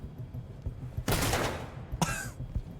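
Shotgun breaching a door in the Ready or Not video game: two sharp, loud blasts about a second apart against a low background rumble.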